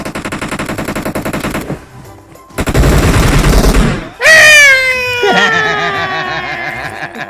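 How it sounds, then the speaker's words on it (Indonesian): Rapid automatic gunfire in PUBG comes in two sustained, loud bursts, then gives way to high, wavering whining tones that glide downward. "Tembak lah Lid"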